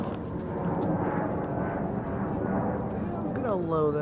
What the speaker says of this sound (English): Low-ass flying planes and crap.